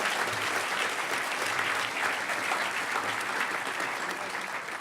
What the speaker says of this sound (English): So everybody, a huge round of applause for Adam.